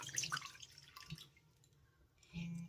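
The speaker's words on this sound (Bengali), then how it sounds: "আমি একটি কড়ার ভিতরে দিয়ে দিচ্ছি এক কাপ তরল দুধ" Liquid milk poured from a cup into a kadai wok at the start of a pitha recipe, a close, soft splashing and trickling pour with drips, quiet throughout and swelling again near the end.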